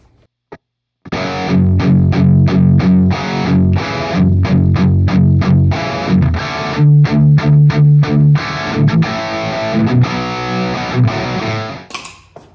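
Distorted crunchy electric guitar plays rhythmic chords, loud and chopped into repeated stabs and short sustained passages, with a brief noisy squeal at the end.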